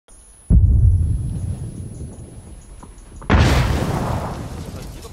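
Artillery cannon explosions in a video game: two heavy, close booms about three seconds apart. The second blast leaves a loud, sustained rumbling roar.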